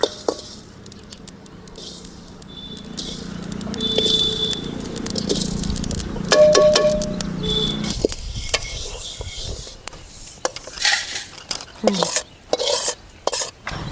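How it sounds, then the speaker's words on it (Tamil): Garlic and poppy seeds fry in a pan with a crackling sizzle, joined by scraping and clattering stirring that grows busier and more irregular toward the end, heard up close. "1/4 பூண்டு கசகசா, நல்லா பொரி வேணும்"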